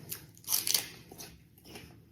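Raw scallion is bitten and chewed up close, giving a few crisp crunches followed by quieter chewing.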